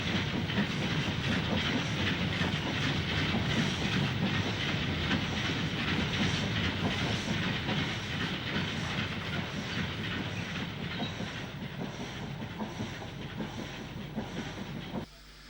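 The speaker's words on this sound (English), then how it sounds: "8F number 48250 passes Norton Junction with a long coal train bound for Walsall in June 1957" An 8F steam locomotive, number 48250, hauls a long coal train of four-wheel wagons past Norton Junction in 1957, a steady loud rumble and clatter of wheels with hissing steam throughout, fading slightly near the end.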